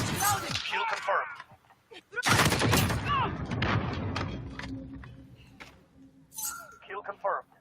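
Gunfire and a grenade blast in a shooter video game, with loud bursts of shots, a heavy explosion, and metallic clinks, while a game voice speaks in between.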